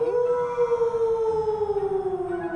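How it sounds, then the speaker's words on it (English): A single long drawn-out howl, used as a sound effect in a read-aloud children's story, holds a steady pitch for a couple of seconds and then slowly falls, sounding clear and fairly loud. "Someone howled back."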